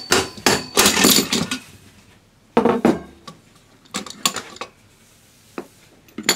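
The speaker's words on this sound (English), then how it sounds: "we can remove the axle by gently tapping it with a rubber mallet" A rubber mallet knocks an axle free on an electric trike build, giving loud, sharp taps in uneven clusters, a few single blows, then a quieter pair near the end, with no talking.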